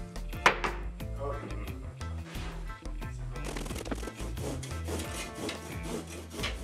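A wood saw rasps back and forth through a wood-fibre insulation panel during home renovation work, with steady uneven strokes, near and moderately loud, and no talking.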